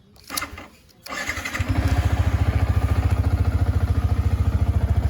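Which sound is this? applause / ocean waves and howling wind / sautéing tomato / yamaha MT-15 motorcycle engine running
yamaha MT-15 motorcycle engine running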